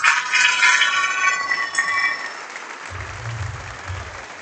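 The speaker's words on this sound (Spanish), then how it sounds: "un fuerte aplauso para Daniel Piquero" Applause from an audience at a kayak surf world championship closing ceremony in Argentina, loud and sustained for about two seconds and then fading into a low murmur with a faint low rumble.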